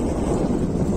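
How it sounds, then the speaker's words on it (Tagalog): Strong wind buffets the microphone in a continuous low roar at Ambuklao Dam, with no voices. "Kaso sobrang mahangin."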